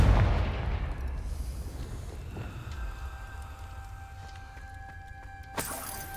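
A Confringo fire spell in Hogwarts Legacy bursts with a loud initial blast that decays into a rumbling, crackling tail, followed by a faint tonal ring and a sharper hit near the end.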